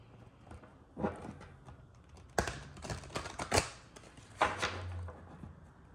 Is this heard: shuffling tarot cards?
yes